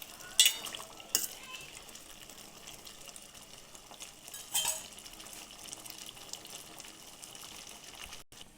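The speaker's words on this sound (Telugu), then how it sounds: "ఒకసారి కలుపుకుని మూత పెట్టుకుందాం." Sweet potatoes cooking in a pot with jaggery are stirred with a utensil, and a lid is set on top, giving a few scattered clinks and scrapes over a quiet, soft background bubbling.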